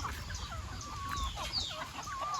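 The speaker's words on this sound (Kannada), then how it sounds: "ಎಲ್ಲ ದೊಡ್ಡ ಕೋಳಿಗಳು ಕೂತಿದೆ ಬಟ್ ಮರಿಗಳೆಲ್ಲ ಎಲ್ಲೂ ಕೂತಿಲ್ಲ" Hens and chicks after the first rain of the year chirp and cluck softly at close range, with high thin chick peeps over low murmuring clucks and a faint background hum.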